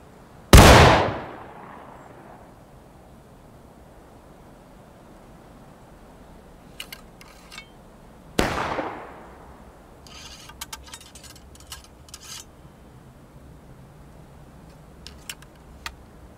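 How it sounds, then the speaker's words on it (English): Two loud, booming gunshots during skirmish shooting training, spaced several seconds apart, each with a long trailing echo, followed by faint clicks and rattles. "And just shoot whenever you're ready."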